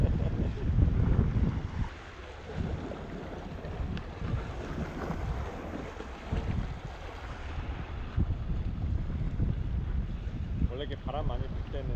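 Strong wind buffets a small fishing boat at sea off an island, a steady low roar and rumble of wind noise on the microphone with water sounds, while people talk over it.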